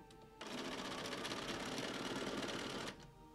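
A sewing machine runs in one steady burst of about two and a half seconds as it stitches quilt blocks for a baby quilt. It starts and stops abruptly, sounds close and even, and has no talk over it.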